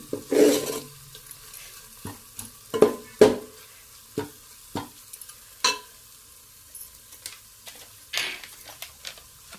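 Dry mutton masala (sukka mutton) being stirred in a pan, with scattered scraping spoon strokes and a soft sizzle, close and alone.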